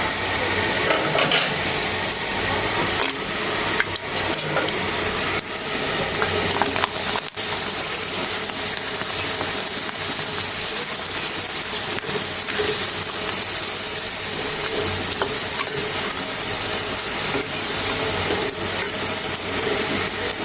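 Homemade Bangladeshi pitha puffing up in hot oil, a continuous loud, even sizzle and hiss of frying that runs unbroken throughout with faint clinks of utensils.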